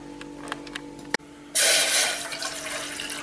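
Water pours for sugar syrup in a kitchen, a few light clicks and a sharp knock, then a sudden loud rushing stream that starts about halfway and carries on steadily to the end.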